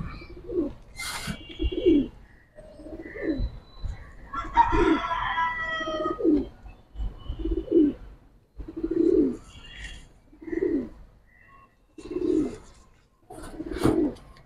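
Giribaz and high flyer pigeons coo in soft repeated low phrases, roughly one every second, close by, with a few brief higher bird calls mixed in and no speech.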